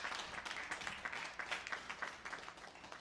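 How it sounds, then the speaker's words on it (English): A crowd at a downtown Buffalo New Year's Eve celebration announcement applauds a sponsor, a short patter of overlapping claps at moderate distance, fairly faint. "let's give M&T Bank a round of applause."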